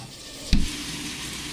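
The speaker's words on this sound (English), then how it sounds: "It's starting to sizzle on the stove" A dextrin mixture for firework stars sizzles in a pan on the stove, a sharp crackling burst followed by a steady, faint hiss.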